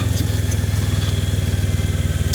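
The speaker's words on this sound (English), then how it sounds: "let's see what the engine does when we go downhill" Kawasaki Versys 650 motorcycle engine on a downhill run, a steady low rhythmic thrum with even pulsing, close and continuous with no talk.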